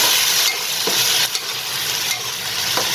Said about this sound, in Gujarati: હવે લગભગ 2-3 મિનિટ માટે હવે આપણે આ ગ્રેવીને સાતળી લઈશું